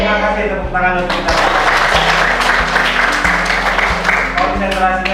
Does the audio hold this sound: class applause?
yes